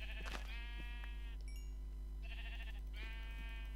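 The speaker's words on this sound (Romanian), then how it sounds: "astea sunt oi" Sheep in the video game Minecraft give several close, clear bleats, one after another with short gaps, alone and without talk.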